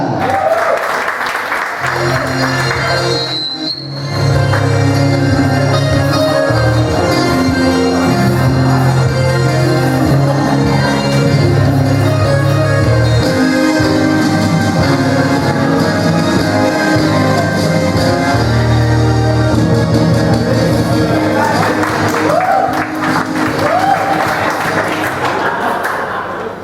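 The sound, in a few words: audience applause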